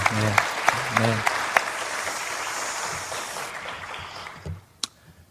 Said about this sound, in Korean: 우리 성가대와 또 우리 하나님께 다시 한번 영광의 박수 한번 올렸으면 좋겠습니다